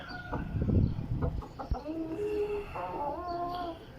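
Chickens cluck and squawk close by in a busy run, with a few drawn-out calls and rustling among the birds.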